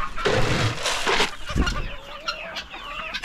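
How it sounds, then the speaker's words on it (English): Farm chickens cluck and squawk busily nearby, overlapping calls in uneven bursts with some rustling and movement, loud and close. "let's get on to the chicken"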